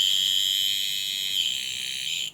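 The alarm on a 1970s Gruen Precision wristwatch buzzes as one continuous shrill tone that holds steady, then abruptly cuts off near the end.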